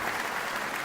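Applause sound effect used as a stream alert: a dense, steady burst of crowd clapping at even loudness, short and continuous with no voices over it.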